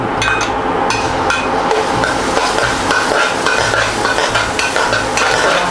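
Garlic stir-fried in oil in a pan for squid in salted egg sauce, with a steady close sizzle and busy clinks and scrapes of a spatula stirring throughout. Nobody speaks.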